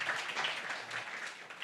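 An audience applauds at a Pfizer event, a steady wash of clapping that stays fairly faint and even throughout, with no voices over it.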